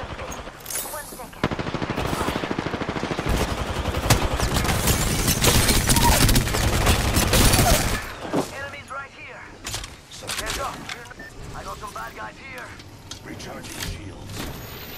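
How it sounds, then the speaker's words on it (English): Video game gunfire in Apex Legends, a loud sustained burst of rapid automatic fire followed by scattered shots, with in-game voice lines heard over the action. "Listen up, I'm getting shot at."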